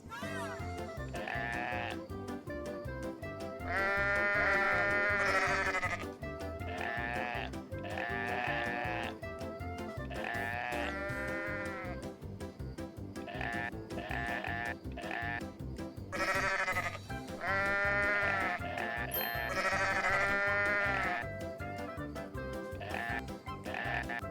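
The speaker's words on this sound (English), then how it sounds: "She looks up for a favorite sheep video." Sheep bleating from a sheep video played inside a video game, repeated wavering bleats one after another over a steady musical bed, fairly loud, with no talk over them.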